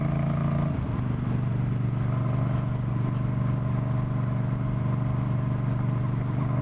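A Moto Guzzi V9 Bobber motorcycle engine drones steadily while riding, a loud, continuous low rumble with a shift in pitch near the start and wind noise on top.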